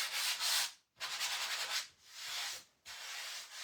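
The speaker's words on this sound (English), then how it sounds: "use my little sanding sponge. I'm going to sand over this." Hand sanding with a sponge: three rhythmic bursts of close, raspy scrubbing separated by brief pauses.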